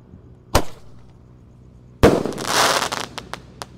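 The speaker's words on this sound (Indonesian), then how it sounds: "Menyalakan banyak sekali mercon dan petasan" Firecrackers and fireworks are set off at night during Ramadan, with one sharp bang, a pause, then a loud burst followed by a fizzing, crackling rush and several quick pops.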